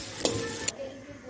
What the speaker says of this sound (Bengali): আদা আর রসুনটাকে দিয়ে ভালো করে একটু ভেজে নেব।